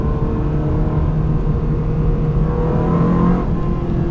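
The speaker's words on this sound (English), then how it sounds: "There aren't many better sounds in this world than a V8 NA Ferrari from the 90s" A naturally aspirated 1990s Ferrari V8 revs with a steady, throaty drone, pitch rising slightly toward the end, heard up close with no talking.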